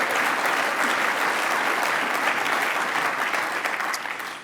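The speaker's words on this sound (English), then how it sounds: "big round of applause as well" A large business-event audience breaks into sustained, dense applause, a steady wash of many hands clapping at close range that holds for several seconds before easing slightly at the end.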